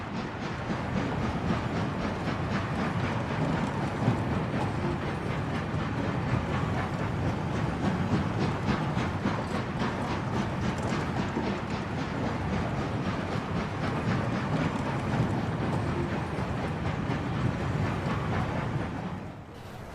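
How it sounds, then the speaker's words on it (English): Southern Railway Class W tank engine hauling a train of wagon parts in 1941, a continuous rumbling roll with steady rhythmic clatter of wheels on rail joints, loud and sustained, fading at the very end. "One train of wagon parts was filmed on the 5th of November 1941, hauled by Southern Railway Class W 264 tank number"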